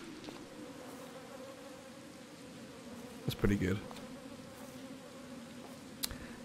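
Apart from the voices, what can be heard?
flies buzzing in video game Get Even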